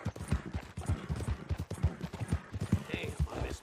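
Hooves of a horse ridden in Red Dead Redemption 2 clop in a quick, steady rhythm close by, with faint scuffs and jingles around them and no voices.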